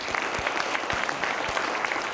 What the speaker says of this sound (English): Give a round of applause to him again,